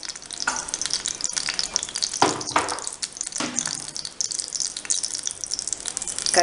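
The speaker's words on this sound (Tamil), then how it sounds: "கடுகு நல்லா பொரிஞ்சிருச்சு" Mustard seeds splutter and pop in hot oil, tempering for a Nanjil-style pumpkin pachadi; a steady close sizzle carries sharp crackling bursts that flare up every second or so.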